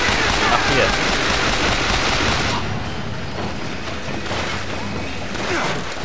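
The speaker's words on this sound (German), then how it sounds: "Wer schießt denn jetzt hier auf uns?" Dense gunfire and clattering weapon mechanisms fill the first seconds of combat in the video game BioShock Infinite, then drop to a lower, busy mix of game sounds. Someone briefly speaks over it.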